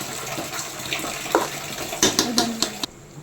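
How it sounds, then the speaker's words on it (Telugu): Water poured from a vessel onto ration rice in a pot while making chicken palao, a brief close splashing pour with a few splashy bursts before it stops. "వాటర్ పోసుకోవాలి"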